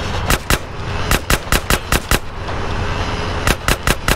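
Gunfire in Grand Theft Auto: San Andreas: bursts of sharp, evenly spaced shots in two clusters with a short lull between, loud and close over a steady background of game noise.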